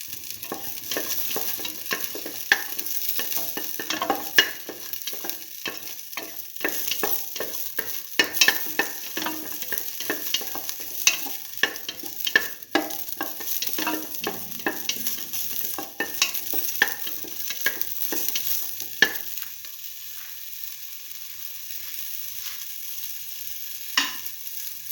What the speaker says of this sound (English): Now let the shallots fry for some time.